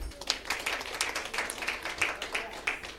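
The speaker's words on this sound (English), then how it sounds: "Let's clap for Honorable Wangari" Audience at a graduation ceremony claps for an honoree, a moderate, steady patter of many hands heard at a distance, with faint voices mixed in.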